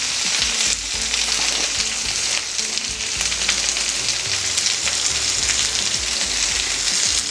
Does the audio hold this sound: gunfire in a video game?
no